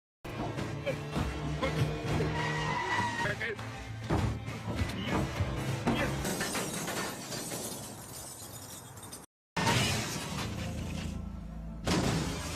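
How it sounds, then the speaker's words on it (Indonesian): In a Money Heist series scene, a car slams into a road barrier with loud, dense crashing, shattering and thudding that continues for several seconds, breaks off briefly, then resumes, with a voice talking over it. "mobil yang dikendarainya menabrak pembatas jalan dan kecelakaan pun terjadi."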